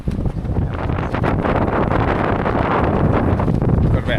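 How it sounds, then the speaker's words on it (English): Steady wind gusts buffet the air aboard a sailboat heading toward Port Vila, a loud, continuous rushing roar with rustling surges, close and unbroken throughout. "Breeze! A good breeze."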